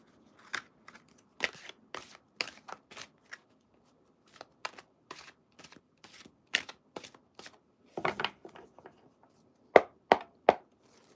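Tarot cards being shuffled for a card reading, heard as irregular crisp riffles and flicks scattered across several seconds with quiet gaps between them. The shuffling is close up, and nobody speaks.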